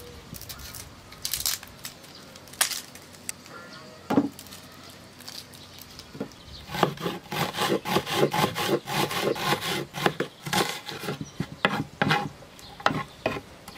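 A knife chops an onion for Sicilian caponata. After a few scattered strokes, a fast, steady run of crisp cuts against a board follows, close up.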